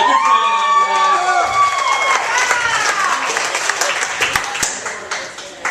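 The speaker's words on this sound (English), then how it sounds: "Can I get a round of applause for my good friend?" Audience at a comedy roast cheers and applauds loudly, a dense crowd roar with whoops and shouts that stays strong throughout, voices mixed in, gradually thinning slightly toward the end.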